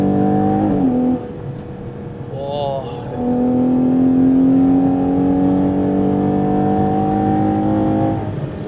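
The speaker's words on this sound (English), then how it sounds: "there's just something about an Italian V12 that only an Italian V12 has" Ferrari Purosangue's Italian V12 revs and accelerates hard through gear changes, a sustained tonal whine with pitch steps, loud and close from the cabin on an autobahn drive.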